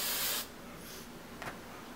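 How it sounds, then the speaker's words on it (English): A short hiss of hairspray from an aerosol can, close and fairly loud for about half a second, then quiet room tone with a faint second puff. "I have a can of hairspray"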